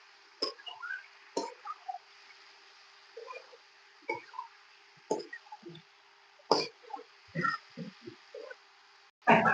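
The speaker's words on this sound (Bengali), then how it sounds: "মাংসগুলো ভালো করে নেড়ে নিব, কোনো মশলার সাথে মিশে যায়।" Beef pieces being stirred with spices in a cooking pot, giving soft wet squelches and plops at irregular intervals over a faint steady hum, close and fairly quiet.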